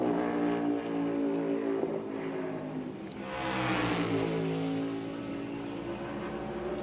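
A race car accelerates hard on a qualifying lap at the Enjoy Illinois 300, its engine note rising in a steady sustained roar with a louder swelling passage partway through, loud and close with no speech.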